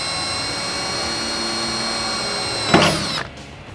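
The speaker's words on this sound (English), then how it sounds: "we're going to use a pilot drill bit to start the hole" A power drill with a pilot bit whines steadily and loudly, boring into a Jeep Wrangler JK fender, then a sharp burst marks the bit breaking through before the motor winds down.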